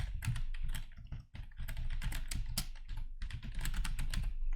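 Someone types on a computer keyboard while filling in an online scholarship application form, producing quick, uneven clusters of close, crisp key clicks with a brief pause.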